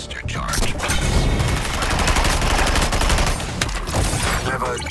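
Video game gunfire as Suicide Squad characters shoot: a dense, continuous barrage of rapid shots and impacts at close range, loud throughout, with a voice briefly over it.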